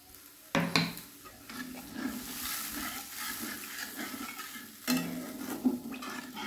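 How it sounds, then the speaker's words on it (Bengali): Water poured into a pan of cooking fish curry, a soft sizzle and bubbling with spoon stirring and a couple of sharper clinks of utensils against the pan, fairly quiet throughout. "এবার একটু জল দিয়ে দিলাম ঝোলের জন্য।"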